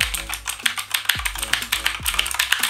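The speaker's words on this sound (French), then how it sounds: "on entend le bruit des ressorts" Rapid keystrokes clatter on an ACGAM AG-109R mechanical gaming keyboard, each press followed by a faint springy ping from the switch springs, close and uneven in rhythm.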